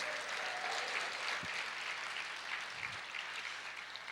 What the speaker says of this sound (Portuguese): Pode aplaudir o Senhor e dizer glória a Deus